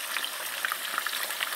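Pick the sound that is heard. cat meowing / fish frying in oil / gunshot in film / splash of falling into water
fish frying in oil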